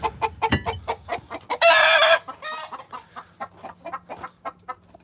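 Backyard chickens cluck in quick bursts at feeding time while a rooster lets out one loud crow partway through, all close by with no talk.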